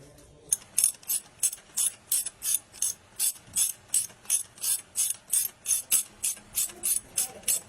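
A ratchet tightens a part during a Mercedes CDI 313 engine rebuild and timing chain installation, giving a close, loud run of about eighteen evenly spaced sharp clicks that keep a steady rhythm.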